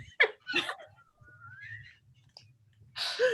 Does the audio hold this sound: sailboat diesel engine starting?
no